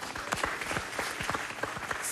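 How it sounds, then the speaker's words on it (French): Studio audience applauding a correct answer on a French quiz show, a steady wash of many hands clapping at moderate level with no voices over it. "On peut l'applaudir."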